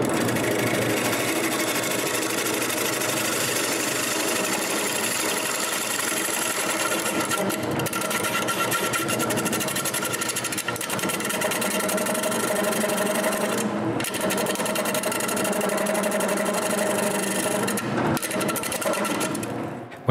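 A wood lathe spins a wooden plate while a tool removes wood, producing a steady close grinding and scraping whir with a few brief dips as the cut lifts, continuous throughout.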